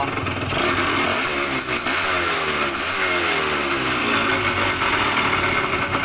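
A Yamaha DT125 motorcycle engine, converted to a KR ignition coil, runs steadily close by, idling with a rough two-stroke burble and a few blips of revving, loud and continuous with no talking.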